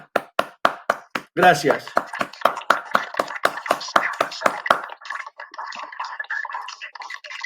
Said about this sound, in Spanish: darle un aplauso a los expositores